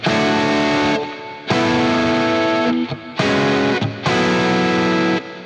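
An electric guitar with a Script-logo pickup, played through a ToneX Royal 45 amp model with heavy reverb, rings out in four long, loud, distorted chords separated by brief gaps.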